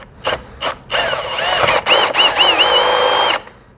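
A power drill with a 12mm bit whirs in short bursts then runs steadily, its pitch wavering as the bit bites into plastic on a 2023 BMW S 1000 RR, loud and close.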